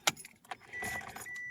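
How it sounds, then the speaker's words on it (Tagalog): Ignition key jingling and turning in a 2005 Toyota Vios 1.5 G in pristine condition, a quick metallic rattle followed by the engine catching into a steady idle hum, close and brief. "Pa-start po natin yung engine natin mga boss."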